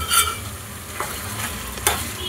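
A spoon stirring chili powder into a simmering pot of country chicken curry, two or three brief scraping strokes over a soft, low bubbling sizzle, close and fairly quiet.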